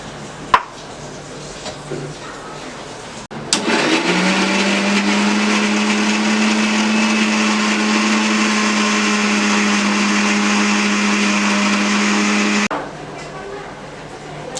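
An electric mixer grinds chopped ginger and green chilli into paste, its motor starting abruptly, whirring loudly and steadily for about eight seconds, then stopping.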